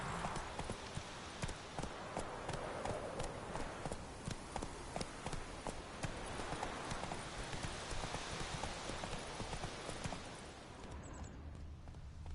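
Hooves of Roach, the horse ridden in The Witcher video game, galloping in a steady, rapid clip-clop rhythm that runs loud and continuous for about ten seconds before easing off at the end.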